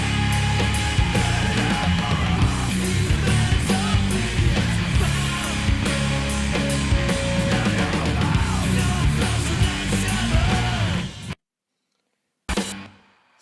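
Chorus section played on bass through IC Muff and green Muff fuzz pedals, bigger open chords ringing out as a thick, loud, driving fuzzed riff in a full mix, cutting abruptly to silence near the end.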